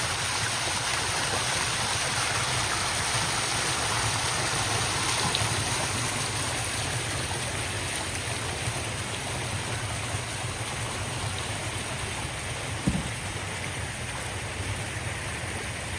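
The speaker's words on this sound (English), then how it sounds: "So just hearing the water is so peaceful." A fountain's water rushes and splashes in a steady, unbroken wash of sound that fills the whole stretch at an even, fairly close level, with no one talking.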